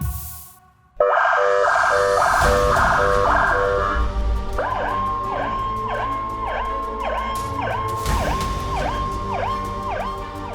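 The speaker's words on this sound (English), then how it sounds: "We have our lights, as well as sirens, which also implements a low frequency siren." A custom emergency-vehicle siren system on a Chrysler 300S starts abruptly and cycles through a fast warbling yelp, then shifts to a slower wailing pattern, loud and close, with no talking.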